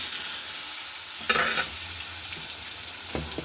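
Potatoes fry in the oil left from cooking tilapia, a close, even sizzle with a couple of brief stirring scrapes and no voices.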